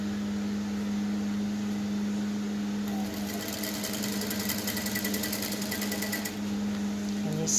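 A sewing machine runs steadily while top stitching a one-side off-shoulder peplum blouse, a close, even mechanical hum with a rapid needle patter that grows busier partway through.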